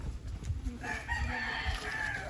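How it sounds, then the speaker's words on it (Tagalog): Chickens on a farm in the Philippines, with a rooster crowing and hens clucking at close to moderate distance, a long crow stretching across the end. "Kasi lahat po yan yung manok."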